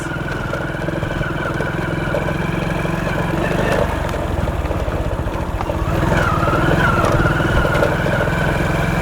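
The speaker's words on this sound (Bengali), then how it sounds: "মোটরসাইকেল চালিয়ে একদম সেই আদিকালের সেই রাস্তা দিয়ে বাইক চালিয়ে যাচ্ছি" A motorcycle ridden along an old road through a forest, its engine droning loud and close with a steady mid-pitched putter that swells slightly in the second half.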